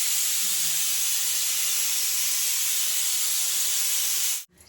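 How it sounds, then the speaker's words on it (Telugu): A pressure cooker vents in a village home kitchen: a loud, continuous hiss of escaping steam with a thin whistle tone runs steadily for several seconds, then cuts off abruptly. "విజిల్ వస్తుంది"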